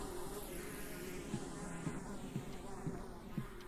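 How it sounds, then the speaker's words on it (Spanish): Quiet, steady buzzing of flies in a horror video game hums throughout, with faint soft taps and thumps scattered underneath. "¿Dónde se escuchan las moscas"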